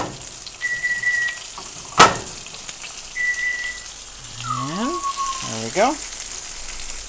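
Chicken tender fillets fry in a pan set on high heat, giving a steady close sizzle with light crackle throughout and a couple of sharp clanks, while a voice speaks briefly near the end.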